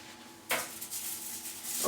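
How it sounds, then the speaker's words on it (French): A metal baking tray is picked up and set down in a kitchen ahead of going into the oven, giving a sharp close clatter followed by a softer scrape and a second knock. "Vous prenez une plaque pour passer au four"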